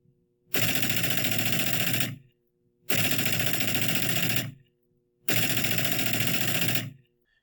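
A rifle with a Hellfire trigger system firing in three long rapid-fire bursts of about a second and a half each, loud and dense, separated by short silences.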